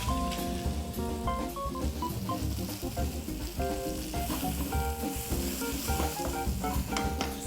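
Chopped onion sizzles and fries hard in hot oil in a pan, a dense continuous crackle with stirring scrapes close by, no voices heard.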